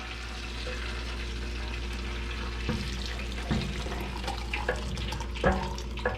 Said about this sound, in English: We're going to drain the juices off.